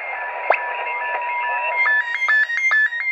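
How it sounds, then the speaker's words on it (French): Slow-scan television (SSTV) picked up on an HF radio: steady warbling tones with a high pitched whistle, followed by a rapid run of short, regular beeps over faint hiss, fairly loud and alone. "Ça c'est de la SSTV."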